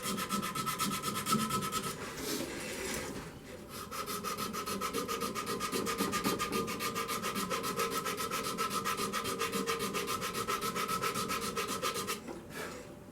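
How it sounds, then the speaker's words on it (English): Sandpaper rubbing against a mahogany candy dish spinning on a wood lathe, a steady close whirring scratch that runs almost continuously with a brief pause early on and a fade near the end. "So I'm going to sand at 220"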